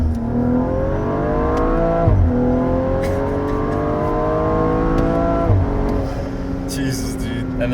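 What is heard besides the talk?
390whp BMW M135i accelerating hard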